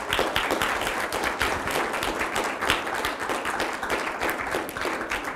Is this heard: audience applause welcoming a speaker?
yes